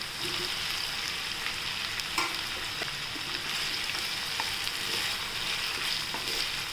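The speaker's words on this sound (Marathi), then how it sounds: "आपण परतून घेऊया आपण याच्यात बटाटे घेऊया" Potatoes sautéing in a pan for green masala poha, a steady soft sizzle with occasional light stirring knocks, close but fairly quiet.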